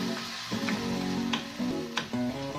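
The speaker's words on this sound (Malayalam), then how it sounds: "പാൻ ചൂടായതിനു ശേഷം ഇത് ഇട്ട് കൊടുക്കുക. എന്നിട്ട് ഇത് നല്ലപോലെ വറുത്തെടുക്കുക" Rice sizzles and fries in a hot pan for a tyre-and-taro-stem thoran, a steady close crackle with a few light ticks of stirring.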